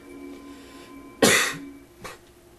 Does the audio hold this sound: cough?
yes